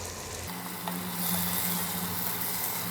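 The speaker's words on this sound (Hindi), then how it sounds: "बस सब हल्की हल्की सारे ऑयल में सौते करनी है" Vegetables and vermicelli noodles for a Chinese-style chowmein sizzle steadily in hot oil over a high flame, the frying hiss jumping louder after a brief start and continuing up close, with no talking.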